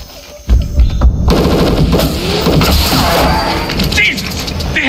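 Film action scene with dense rapid gunfire from snipers, loud bursts and crackling shots starting abruptly and continuing throughout, with shouted voices mixed in.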